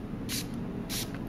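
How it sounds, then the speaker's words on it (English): Two short hissing bursts from a spray bottle misting a message written in disappearing ink, close and fairly loud over a steady low hum. "Simply take the spray and apply it to the message."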